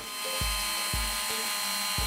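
A drill grinds steadily through a circuit board, the bit biting hard and getting nowhere. A continuous high whine runs under repeated low thumps about every half second. The sound is loud and close, with no talking.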